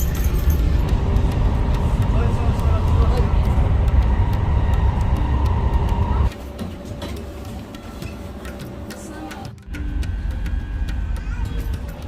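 Steady rumble and rattle of a moving metro train in Denmark, heard from inside the carriage on the way to the airport, loud at first, then dropping quieter before picking up again.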